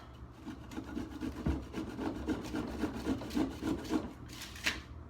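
Frozen mozzarella cheese is grated, giving a rhythmic rasping scrape in quick even strokes, close up and fairly loud, with no talking.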